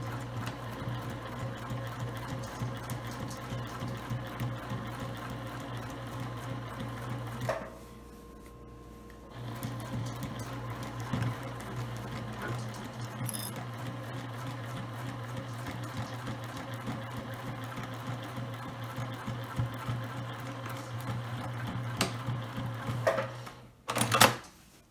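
A sewing machine stitches the seams of a travel shoe bag in steady whirring runs with fast needle chatter, close and clear, with a brief pause midway and some handling clicks.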